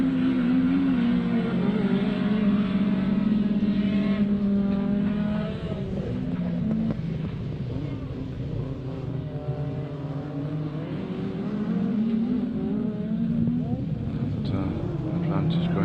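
Rallycross cars, including a Ford Escort and a Peugeot, race at a club championship round, their engines droning and revving at a distance beneath continuous commentary.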